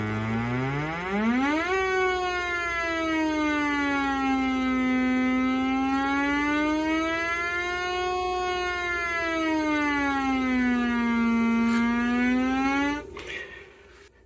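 A synthesizer oscillator driven by a Sloth Chaos module through a comparator gives a loud, steady buzzy tone that sweeps up at the start, then slowly rises and falls in pitch before cutting off near the end.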